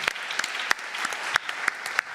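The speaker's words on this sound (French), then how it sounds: "Vous pouvez l'applaudir." Applause from the audience at a French cybersecurity women's awards ceremony, a steady wash of clapping with several sharper individual claps standing out, sustained and fairly close.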